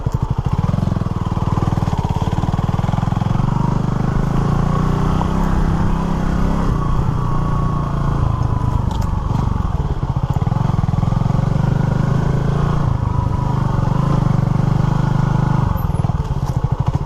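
Honda CB250RS motorcycle ridden along a muddy green lane, its single engine running steadily and loudly up close the whole time, with the throttle rising and easing off and some clattering over rough ground.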